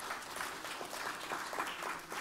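Applause from an audience at a Black tech week forum, a steady moderate patter of many hands filling the whole stretch without voices on top.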